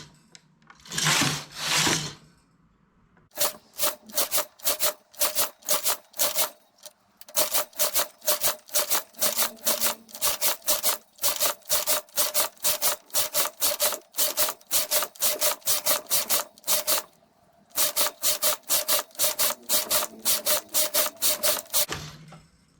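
Knitting machine carriage sliding back and forth in rapid rhythmic passes, a steady train of close scraping clatters with a few brief pauses, loud and alone.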